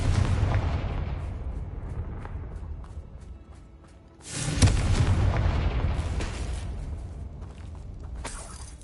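A Confringo spell explosion in Hogwarts Legacy lands as a loud booming blast about halfway through, followed by rumbling debris and crackle, after a stretch of dense rumbling game noise.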